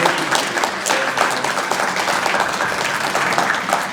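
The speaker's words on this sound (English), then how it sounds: "But a warm round of applause" A warm round of applause rises from the audience at a job fair, dense continuous clapping from many hands, lively and close, holding steady the whole time without speech.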